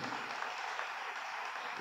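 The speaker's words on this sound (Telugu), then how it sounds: "గట్టిగా చప్పట్లు కొట్టి వారిని అభినందించుదాం" Steady applause from a church audience, a broad even wash of clapping that carries on at a constant level throughout.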